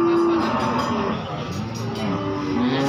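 Pegon cattle moo at a busy cattle market, with low, drawn-out calls heard beneath talk and crowd noise.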